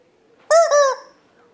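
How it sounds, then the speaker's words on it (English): A squeezed toy chicken lets out one loud, close, honking squawk lasting about half a second in two quick bursts, with near silence before and after. "this chicken has consciousness because when you squeeze it, it makes a loud noise"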